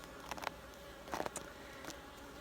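Bees buzzing around an opened beehive during a December honey harvest, with a few short, faint buzzing bursts as individual insects fly close past, over a quiet background.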